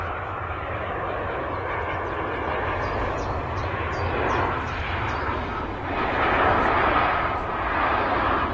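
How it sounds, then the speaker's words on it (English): A British Airways shuttle airliner arrives at Manchester Airport, its engines making a steady broad roar that swells slightly toward the end as it draws closer, with faint talk underneath. "British Airways shuttle service on the way in."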